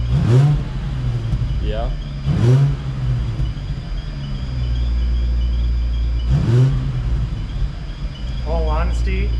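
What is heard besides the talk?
Infiniti G35 engine revving with Apexi N1 exhaust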